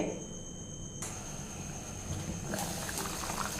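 Vegetables for a white kurma, potatoes among them, simmer in water in a covered pot, giving a faint steady bubbling hiss that brightens slightly after the first second, with no talking.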